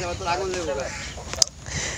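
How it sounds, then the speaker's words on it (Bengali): Chickens being chased in a yard after Eid al-Adha give brief clucks and squawks beneath nearby people talking, with one sharp tap near the end. "মেহেরিমা মুরগিগুলোকে তাড়া দিচ্ছে, তাড়া করতেছে।"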